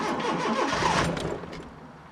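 A car engine cranks and catches, a rough starter churn rising into a mid-pitched running engine that settles and fades slightly, heard alone at moderate distance.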